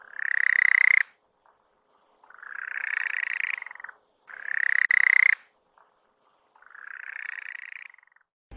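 A marsupial frog of the genus Gastrotheca in the Yungas cloud forest gives four loud drawn-out croaking calls about a second each, spaced evenly with silent gaps between them.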